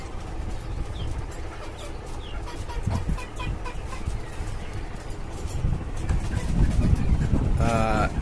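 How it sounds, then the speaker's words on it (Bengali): Domestic country chickens on a rooftop farm five storeys up, clucking and calling steadily at moderate distance amid continuous background noise, with a brief rooster-like call near the end. "এই হচ্ছে আমার পাঁচতলা ছাদের উপরে আমার শখের মুরগির খামার"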